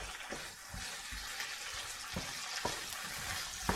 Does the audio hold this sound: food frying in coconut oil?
yes